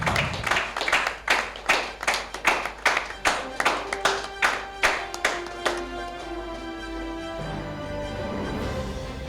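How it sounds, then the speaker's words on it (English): Audience applause at an awards ceremony and development conclave: rhythmic, evenly spaced claps in unison for about six seconds, then fading into a reverberant room tone with a faint tonal hum. "Appreciating with applause is a token of love."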